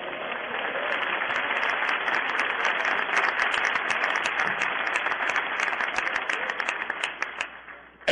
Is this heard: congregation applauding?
yes